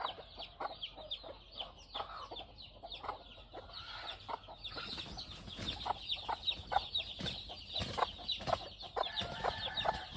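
A free-range mother hen clucks among her chicks, soft repeated clucks mixed with high, rapid peeping from the chicks, growing busier and more crowded in the second half.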